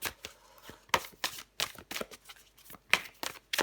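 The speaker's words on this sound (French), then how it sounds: "je prends encore une carte pour vous, les Verseaux." Tarot cards shuffled by hand at close range, a run of quick crisp riffles and soft slaps in irregular bursts with short gaps.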